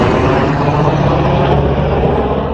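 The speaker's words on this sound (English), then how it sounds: "here's one of the water dropping helicopters" A firefighting water-dropping helicopter makes a loud, steady roar with a low rotor thrum, close by and continuous, with no talking over it, during a Laguna Beach wildfire.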